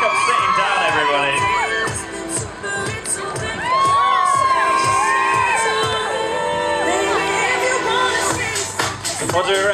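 A crowd with many children's voices cheers and whoops loudly for a female football freestyler performing tricks, with shrill shouts rising and falling continuously throughout.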